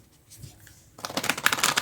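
Cards are shuffled close up, a quiet pause giving way to a rapid run of crisp riffling flutters.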